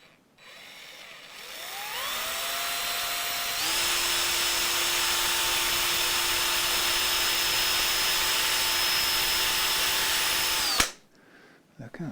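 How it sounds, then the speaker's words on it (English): A power drill with a very small bit bores into acrylic, whining steadily at a constant high pitch for about nine seconds after a brief spin-up, then stopping abruptly; no talk. "I will get me a very small drill bit"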